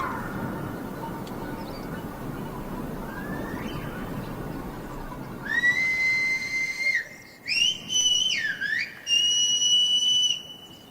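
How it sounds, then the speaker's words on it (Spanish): Whistled Silbo Gomero from La Gomera rings out in sharp, piercing phrases with rising and falling pitch, several separate bursts after a stretch of low background rumble, with no spoken voice. "El silbo es un lenguaje sustitutivo y comprimido que reproduce la lengua que hablan sus usuarios"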